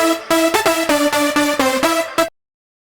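Dry layered saw-synth leads for progressive house play a brisk rhythmic phrase of about eight bright stabs, loud and close, then stop abruptly into silence.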